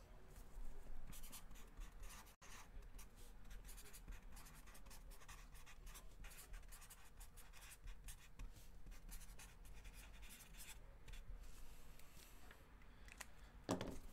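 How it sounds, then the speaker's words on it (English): A pen scratches across paper in quiet, irregular strokes, faint and close, continuing for several seconds with small pauses. "I'm going to have to write this down."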